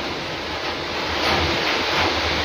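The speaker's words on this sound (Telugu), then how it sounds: "వర్షం అయితే భలే వస్తూ ఉందండి" Heavy rain falls outside a home kitchen as a steady, dense broadband hiss that stays constant and fairly loud throughout, with no voices.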